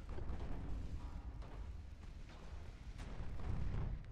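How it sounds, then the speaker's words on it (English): Naval gunfire from a warship firing high explosive shells in Ultimate Admiral Dreadnoughts, heard as a low rumbling, distant barrage with soft repeated booms rolling under a continuous dull roar. "Let's see what the high explosives from the Fritjof can do."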